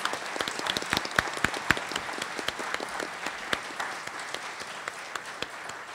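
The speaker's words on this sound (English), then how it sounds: "How about a round of applause for our Group 4 candidates?" Applause for election candidates at a candidate forum in Coral Gables, a moderate room of hands clapping with distinct individual claps, gradually thinning over about six seconds.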